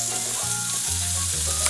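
Bacon frying in a hot pan, a steady loud sizzle with faint crackle running throughout.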